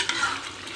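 Dry beef rendang, a Minang dish, stirred in a pan after an hour of cooking the spices, a brief loud burst of thick sizzling and scraping with no talk.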